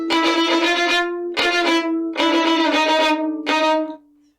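Violin playing a phrase of a theme in second position, four sustained bowed notes with rich harmonics, close and solo, the last note fading out.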